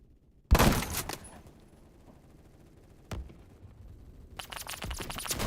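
Gunfire in the shooter game Phantom Forces comes in loud bursts, a dense opening volley, a single sharp shot, then another rapid burst, with quieter gaps between.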